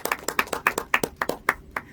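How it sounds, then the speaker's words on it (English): A handful of people clap in an indoor teaching session on the Bhagavad Gita, with about eight sharp, evenly spaced claps over two seconds, close and fairly quiet, and no talk. "a big round of applause for each one of you for making this commitment"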